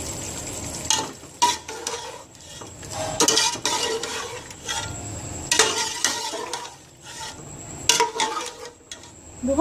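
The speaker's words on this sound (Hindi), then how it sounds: "अब मैं इसमें मैरिनेट किया हुआ चिकन ऐड कर दूंगी और इसको अच्छी तरह से भून लूँगी।" Marinated chicken is fried and stirred in a pan for Hyderabadi chicken tahari. A steady sizzle sits under repeated sharp scrapes and clinks of the spoon against the pan, coming in irregular bursts.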